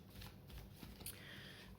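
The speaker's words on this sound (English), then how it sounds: "If you could just focus on the cards as I shuffle." Tarot cards being shuffled by hand, a soft papery riffling and sliding, quiet and close, with a faint swish toward the end.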